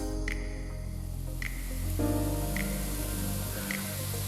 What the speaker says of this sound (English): I'm just going to saute this until the onions are slightly translucent.